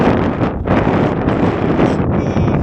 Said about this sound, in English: Slightly cool, windy, and there's this constant dust in the air.